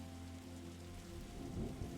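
Rain in The Darkside Detective, a faint steady patter with low rumbling beneath, quiet and continuous.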